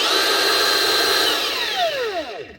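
A Makita DUT130 cordless mixer motor whines at a steady pitch, then spins down with a falling tone and stops, loud and close.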